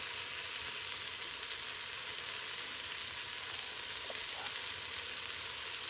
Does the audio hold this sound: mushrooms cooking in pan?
yes